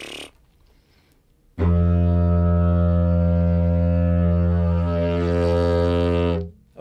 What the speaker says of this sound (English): this instrument is played by buzzing your lips like that, and it makes this drone sound like this.